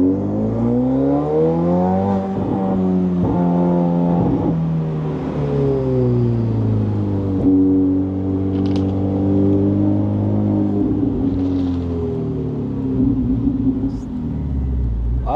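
A hypercar engine accelerates on a hilly open road, its loud rising drone shifting up through several gear changes with steady sweeps in pitch, close and continuous throughout.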